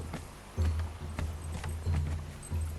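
Horse hooves clopping in the video game Conan Exiles, a steady walking rhythm of several close, moderately loud footfalls over a low ambient hum, with no talking.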